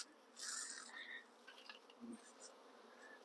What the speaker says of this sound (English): That is a full-size swarm over there.